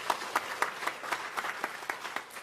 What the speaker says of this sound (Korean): 네, 박수해 주세요.